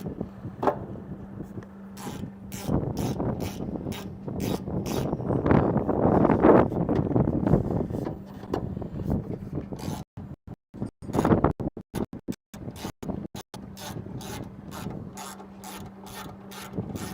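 A hand ratchet tightens a part outdoors, with quick close bursts of clicking strokes that come and go over gusty wind rumble, and no speech.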